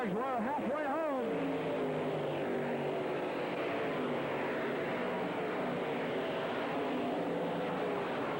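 Super late model race cars roar around the Springfield Mile dirt track in 1984, a sweeping engine drone with a pitch bend early on, as an announcer keeps calling the race over the noise.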